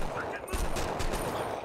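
A gunshot from the 25 To Life video game, a sharp burst and rattle of fire within a busy, noisy game mix, with a voice faintly present beneath.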